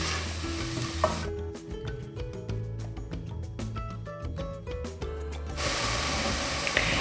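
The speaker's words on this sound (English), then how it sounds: "I'm just gonna put that in there and stir it up for about a minute just to get rid of that raw flour taste." Flour stirred into sizzling onions in a pan for French onion soup, a steady hiss and crackle with utensil scrapes throughout, close and fairly quiet, without speech.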